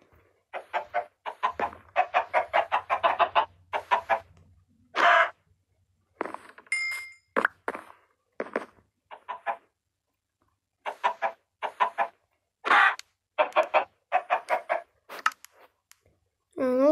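Minecraft chickens in the 1.17 update cluck in quick, choppy bursts separated by short silences, sounding close and fairly loud throughout.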